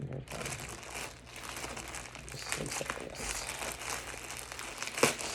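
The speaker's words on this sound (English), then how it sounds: "Sorry for the crinkles." Plastic packaging around a Knitter's Pride Mindful knitting needle set crinkles and crackles close by in irregular bursts of rustling handling noise.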